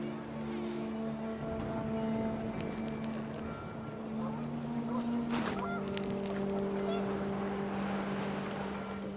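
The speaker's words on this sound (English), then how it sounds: "The wind picked up, and panicked geese appeared and quickly went." Panicked geese honk in a scene from the video game What Remains of Edith Finch, with wind rising. The honking sits over steady sustained tones and continuous background sound, fairly close and moderately loud throughout.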